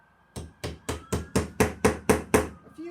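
A hammer taps a nail into wood with eight even, solid knocks at a steady pace, close and growing slightly louder, followed by a couple of faint trailing taps.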